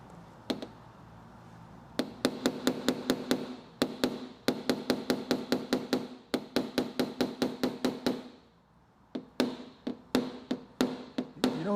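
A small paintless dent repair hammer taps a Porsche Carrera body panel in quick rhythmic bursts of sharp metallic ticks, grouped in runs with brief pauses, close and fairly crisp.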